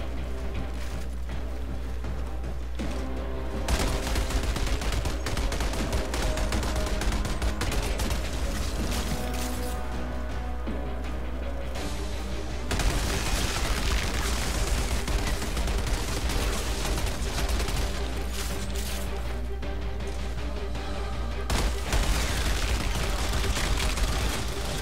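Gunfire in the Outriders video game on Xbox Series X, with a Trickster frozen enemy being hit by repeated shots: dense continuous bursts of shots and impacts over loud game music and effects, with no pauses.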